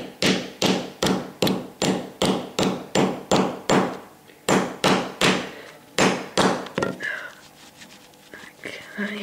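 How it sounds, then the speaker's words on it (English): A hammer bangs a ring terminal onto heavy 0/1 gauge wire in a run of about twenty sharp, steady, close blows with a short pause midway, then fainter tapping and handling noise. "I get a hammer and I bang it. Get these bits to bend in."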